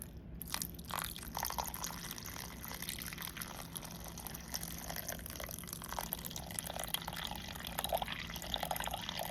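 Room temperature water poured steadily into a bowl on a kitchen scale while making sourdough, a continuous close splashing and trickling with a few small drips, no talk.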